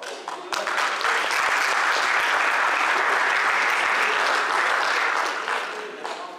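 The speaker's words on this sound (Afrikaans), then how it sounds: "Hande klap." A church congregation claps hands together in dense, steady applause that swells quickly, holds loud and close for several seconds, then tapers off near the end.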